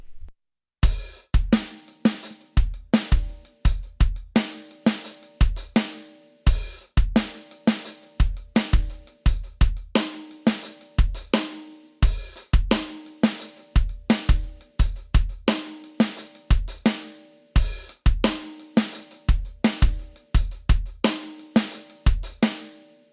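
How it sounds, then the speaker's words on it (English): A tight drum beat from a song repeats in steady loops, punchy kick and snare with quick stuttering hi-hat hits filling the gaps, played alone with no voices. "he's doing this little hi-hat stuttering thing where he's just filling in the spaces between the bass and the snare"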